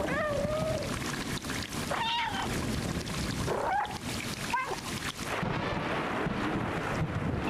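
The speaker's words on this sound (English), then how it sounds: "Of course there would be a meow button." A cat meows several times in the video game Stray on PS5, with short rising and falling calls spread over a steady hiss of wind-like background ambience.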